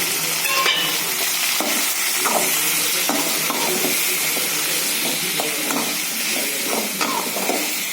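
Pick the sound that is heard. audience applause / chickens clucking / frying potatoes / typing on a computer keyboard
frying potatoes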